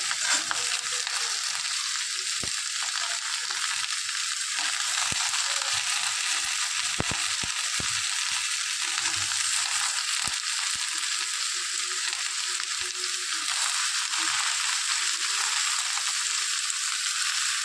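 Soaked chickpeas hit a pan of frying vegetables, giving a steady, bright sizzling hiss throughout. Scattered sharp clicks and pops come from stirring and spitting oil.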